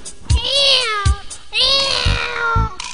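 A human voice imitates a cat's meow in a children's animal-sound singing contest, with several drawn-out, close mews in sequence, separated by soft thumps.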